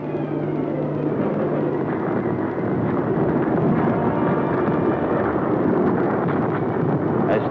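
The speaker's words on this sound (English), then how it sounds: "As thousands of bombs demolished Polish cities" Old WWII newsreel audio of bombs falling on Polish cities: a dense, continuous rumble of explosions blended with droning aircraft engines, muffled and heavy throughout, with no distinct individual blasts standing out.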